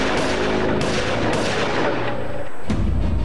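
A dense, continuous barrage of gunfire fills the whole stretch, loud and sustained with no pauses, standing in for the 1997 daylight shooting of sixteen bullets outside the Jeet Mahadev temple in Andheri.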